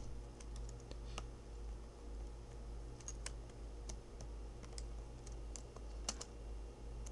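Plastic keyboard key being slid onto its bracket under the keycap, a few small close clicks and taps over a steady low hum, with no talking.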